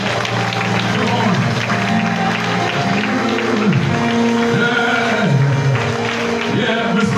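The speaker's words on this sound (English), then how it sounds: "come on and give him a hand clap" A church congregation claps and applauds during a worship service, steady dense clapping under music with a voice singing or calling over it throughout.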